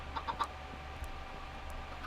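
Chickens on an egg farm in a video game give a few soft, quick clucks early on, faint and set against a low, steady background hum.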